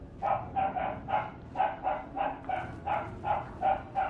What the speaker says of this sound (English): it's my family's dog getting worked up in the background